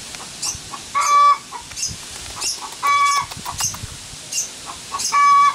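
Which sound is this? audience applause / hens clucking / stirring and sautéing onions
hens clucking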